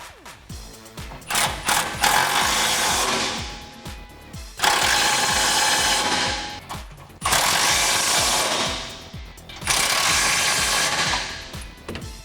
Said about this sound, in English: go ahead and make sure it's nice and snug, then you can tighten everything down. You'll need an 18mm socket for these new bolts.